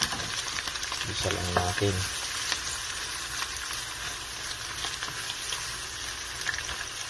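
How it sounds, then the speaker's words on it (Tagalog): Ginger, chili, onion and garlic sauté together in a pan with a steady, close sizzle and some stirring clatter early on, while a voice briefly speaks. "Tapos gisa natin dyan sa tabi niya. Nagsama-sama ko na luya, sili, sibuyas, bawang."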